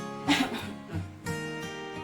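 A person gives a couple of short coughs nearby into the inner arm, with brief pauses between them.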